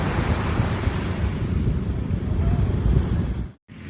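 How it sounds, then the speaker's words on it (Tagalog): Ocean waves surge along the Zambales shore in a loud, continuous wash mixed with gusty wind buffeting the microphone, cutting out briefly near the end. "Nasa likod ko yung dagat."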